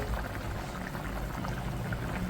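Boiled mutton with its hot cooking liquid being poured into a pressure cooker for an Assamese-style mutton curry, a steady wet splashing and gurgling pour that runs close up and unbroken throughout.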